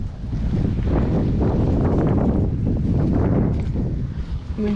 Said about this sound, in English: the wind is gonna help us